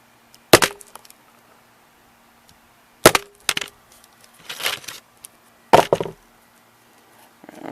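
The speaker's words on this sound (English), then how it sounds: "Another whack at the screen." Sharp, hard whacks strike the screen of a Sandisk MP3 player with metal back housing, a few loud isolated impacts spaced seconds apart with small rattles and scrapes between.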